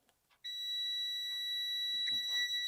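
A multimeter's continuity beeper sounds as a sustained, steady electronic tone that starts abruptly after a brief quiet moment and holds to the end, with faint handling noise near the close.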